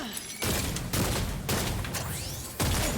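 Gunslinger pistol shots in Time to Hunt, a few sharp loud bursts in quick succession, each with a short ringing tail.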